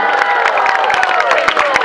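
Crowd cheering, shouting and clapping loudly at a night tug-of-war match, a dense and continuous roar of voices with rhythmic claps punching through, close and intense throughout.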